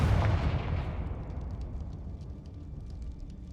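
A Confringo fire-spell blast in Hogwarts Legacy booms loudly right at the start, then rolls off into a long fading rumble with faint scattered crackles.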